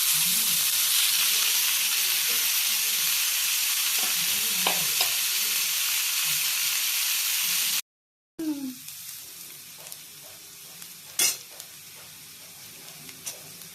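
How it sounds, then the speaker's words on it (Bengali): Beans and potatoes frying in a pan while being stirred, heard as a loud, dense, steady sizzle with soft scraping. It cuts out briefly, then returns quieter with occasional clinks of the utensil against the pan. "ভালোভাবে নাড়াচাড়া করা হচ্ছে।"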